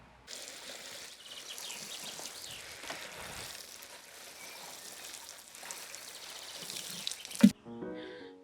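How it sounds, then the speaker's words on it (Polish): Water splashing and pattering onto soil around newly planted verbena and feather grass in a garden bed freshly wet from rain, a steady close hiss for about seven seconds that ends abruptly in a sharp knock. "Mimo, że jest świeżo po deszczu, nowo posadzone rośliny muszę podlać."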